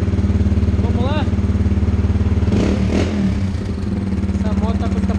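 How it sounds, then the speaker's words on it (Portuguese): Motorcycle fitted with a sport exhaust, its engine running loud and close with a steady low rumble and a sharp burst of revving midway, while someone talks over it. "Essa moto tá com escapamento esportivo. Show de bola pra quem gosta do barulho."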